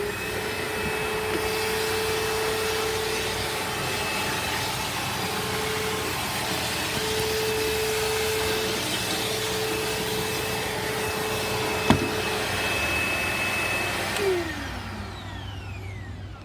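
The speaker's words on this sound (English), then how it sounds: "But it's a very nice vacuum. It works really well" Bissell Rewind SmartClean upright vacuum cleaner runs continuously with a steady whine and airflow roar, a sharp click partway through and a brief pitch shift near the end as it winds down.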